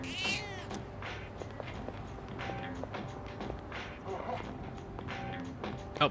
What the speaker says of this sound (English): Wait, cat.